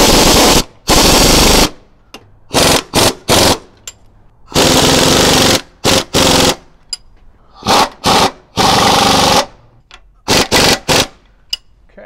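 A pneumatic impact gun snugs radius rod axle bracket bolts, firing loud, close bursts of rapid hammering, some long and some short, broken by brief pauses.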